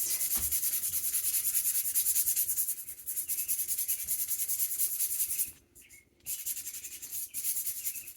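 Sandpaper rubs steadily back and forth over painted stencil edges to distress them, a close, quiet scratchy sound with a brief pause partway through.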